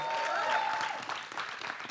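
Audience applause for a guest storyteller at a film anniversary Q&A event, a dense burst of many hands clapping that rings out for about two seconds before thinning slightly, loud and close.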